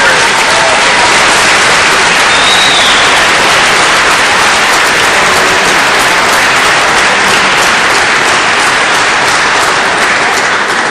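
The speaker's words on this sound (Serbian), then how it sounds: "Pa dajte još jači aplauz" Loud, dense audience applause fills the hall after a tango dance performance on a televised dance show, a continuous roar of clapping throughout with no break.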